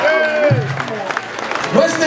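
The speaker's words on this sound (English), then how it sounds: "So give Western Union a round of applause." A crowd at a 30th anniversary sound-clash event gives a round of applause, clapping and cheering heard under a loud voice on the microphone and ringing music tones.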